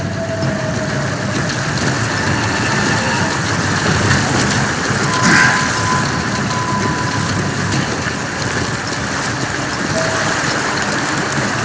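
Steady, loud rushing roar of a thundering whitewater river below a precipice in the video game Call of Juarez: Gunslinger, a continuous broadband wash with no talk.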